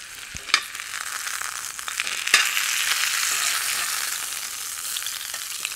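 Pork belly sizzles over coals with a steady, hissing crackle and a few sharp pops near the start, continuous and close.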